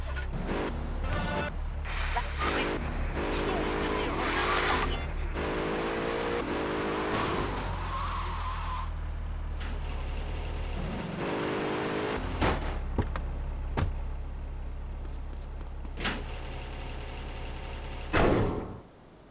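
The Sentinel car in GTA Vice City is driven around with engine revving and accelerating, door clunks and sharp impact bangs breaking up the steady motor drone, ending in a loud crash.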